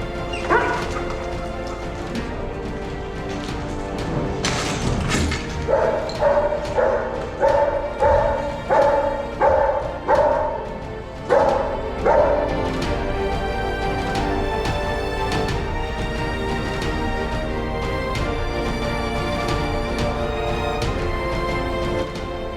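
Search and rescue dogs bark during detection training among confined spaces and heavy rubble: a run of loud, rhythmic barks repeats steadily over constant background noise, with no talking.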